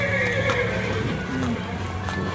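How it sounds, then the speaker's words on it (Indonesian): At a horse-racing setting, a horse gives a high, wavering whinny that carries through nearly the whole short moment over a dull background hum, with a faint hoof clop. "ini kuda"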